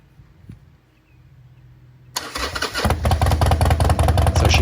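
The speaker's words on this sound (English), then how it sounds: "what you're about to witness right now is me starting the bike for the first time of the season" A motorcycle started for the first time of the season after a wash: quiet handling noises, then the engine catches abruptly and settles into a loud, close, throbbing idle with slight revving.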